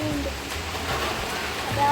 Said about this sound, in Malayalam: നല്ല കാറ്റും മഴയും വരുന്നുണ്ട്